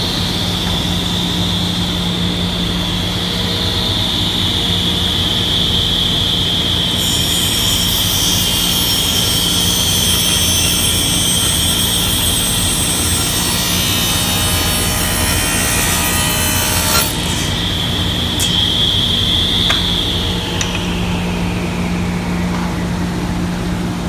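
SawStop table saw running, a loud continuous high whine with a low hum beneath; a harsher broadband burst from cutting lasts several seconds before the blade noise settles and winds down near the end.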